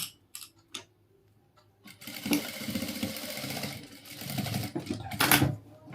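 Sewing machine stitching a ladies' coat dress, a few soft clicks and taps followed by a close, steady run of rapid mechanical whirring that ends in a louder burst.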